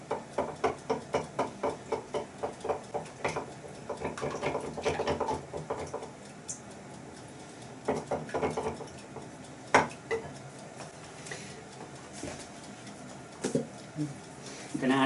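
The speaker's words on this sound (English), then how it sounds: "Going to give them a quick whisk." Whisk in a bowl in a home kitchen, making quick rhythmic clicks and taps, a fast regular run at first and then scattered strikes, with a person talking now and then.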